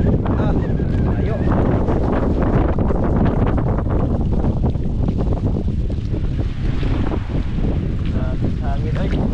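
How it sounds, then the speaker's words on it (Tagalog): Strong wind roars and buffets continuously, loud and gusty, with faint voices and water sounds mixed underneath. "Hangin ay."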